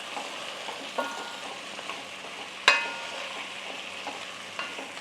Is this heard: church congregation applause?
no